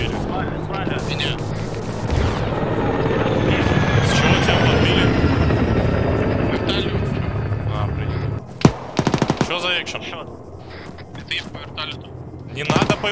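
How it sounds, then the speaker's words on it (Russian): In the military shooter ArmA 3, a helicopter hovers with a loud continuous rotor drone, then the drone gives way to scattered bursts of gunfire and sharp shots. "В коем случае нахер не стрелять по зависшему вертолету."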